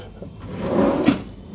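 A hotel room drawer slides open in a single short scrape with a soft knock near the end, close and moderately loud against quiet room tone.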